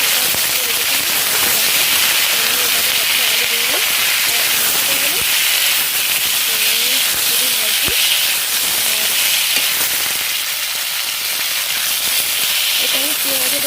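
Onion frying in oil in a home kitchen pan, with salt and turmeric added, a steady loud hiss and sizzle running throughout with occasional stirring scrapes, while someone talks over it.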